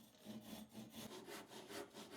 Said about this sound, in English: belt sander to sandpaper the bottom smooth